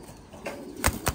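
Titan Thai pigeons in a breeding farm make a few soft coos and rustles, with two sharp bursts of wing flaps or scuffles close by near the end.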